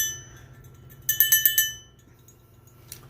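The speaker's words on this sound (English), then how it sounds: "they can jangle the bell" A small copper bell jangles in a quick burst of about five bright, close strikes. Each strike rings out and fades, with a single faint tap following later in a quiet room.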